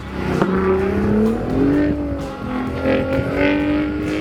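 The engine of a Hennessey VelociRaptor 600 truck, turbocharged, revs while the truck drives in snow. The engine note rises and falls through repeated accelerations, loud and close, with a faint tire squeal.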